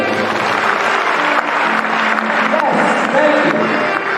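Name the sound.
audience applause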